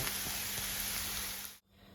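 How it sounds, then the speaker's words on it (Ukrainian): Cabbage, carrot and onion fry together in a pan, giving a steady, even sizzle that runs for over a second and a half before cutting off abruptly, with no talking. "висипаємо в сковорідку капусту. І все разом смажимо."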